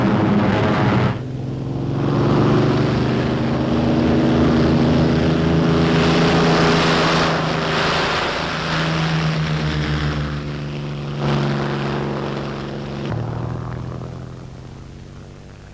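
A loud propeller engine of a World War II fighter aircraft roars and drones as it comes in to land, its pitch shifting and swelling before fading somewhat toward the end, with no voices.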